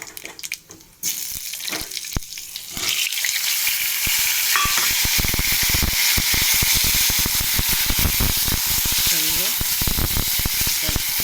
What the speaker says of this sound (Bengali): কালো জিরেটা দেওয়ার পর আমি এক এক করে আলুগুলো ভাজবো, লাল করে ভাজবো